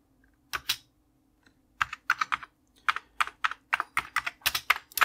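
Keys on an Amiga A600 keyboard are pressed in quick close-up clicks, a few isolated taps first and then faster bursts of clattering presses.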